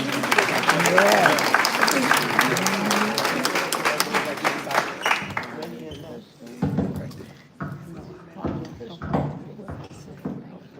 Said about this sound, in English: give a round of applause for these two gentlemen